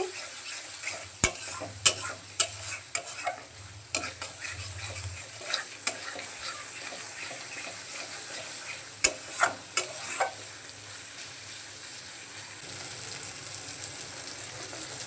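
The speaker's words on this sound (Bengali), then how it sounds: "টমেটোগুলো দিয়ে আর একটু কষিয়ে নিচ্ছি" Tomatoes sauté in oil in a pan for a tangra fish tel jhal curry: a steady soft sizzle under scattered sharp spatula scrapes and taps, busier early and settling into gentle frying later.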